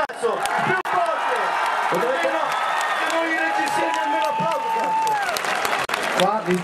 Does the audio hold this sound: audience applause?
yes